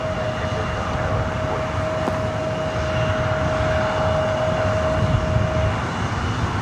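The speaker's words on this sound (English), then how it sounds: "This flight heading to Oakland, Delta Connection, E175." Delta Connection Embraer E175 jet taking off at LAX: a steady, loud broadband engine roar with a sustained whine, swelling slightly toward the end, with no talking.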